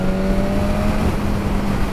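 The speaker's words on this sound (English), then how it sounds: "Let's try a fifth gear overtake at 60 miles an hour" A 2019 BMW S1000RR motorcycle pulls hard at full throttle in fifth gear around 57 mph while overtaking a car, its engine a loud, steady drone with a sustained tone and constant wind roar.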